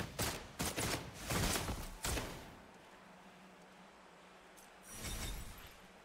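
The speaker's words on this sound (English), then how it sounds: "Let the bullets fly." Rapid gunfire in the video game Wuthering Waves, a cluster of sharp bursts over the first two seconds, then a quiet hum and one more softer burst near the end.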